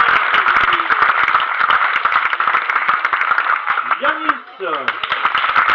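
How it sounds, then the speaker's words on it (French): An audience claps steadily for child performers at a circus tent show, dense applause filling the space while a presenter speaks over it, naming the performers. "Paul-Émile, qu'on peut applaudir"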